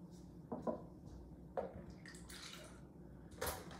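Heavy cream pours into a bowl, giving faint, close liquid trickles and a few soft splashy bursts against quiet background noise.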